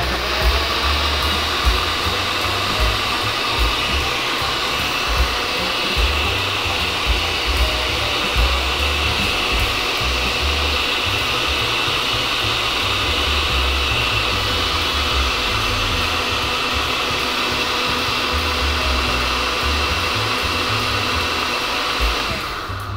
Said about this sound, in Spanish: Ahora vamos a licuar.